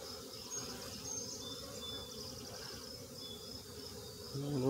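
A dense, continuous buzz of many honey bees droning together close up, steady and unbroken.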